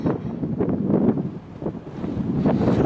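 Steady wind blows across an open dry lake in Surprise Valley, California, buffeting the microphone with a continuous low roar that swells and dips slightly, with no voices.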